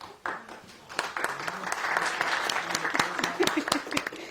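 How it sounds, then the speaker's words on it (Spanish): Applause from a conference audience welcoming a doctor to a panel on advanced oxidation processes in drinking-water treatment: a dense, steady patter of many hands that swells after a soft start and holds at moderate loudness. "Recibamos con un fuerte aplauso a la doctora Noemí Acevedo Quirós del Instituto Mexicano de Tecnología del Agua"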